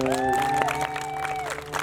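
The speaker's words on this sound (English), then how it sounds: "Go ahead, you can applaud Michaela." An audience claps at the Maine Lobster Festival Sea Goddess Coronation, a steady mass of applause heard over sustained tones from the sound system.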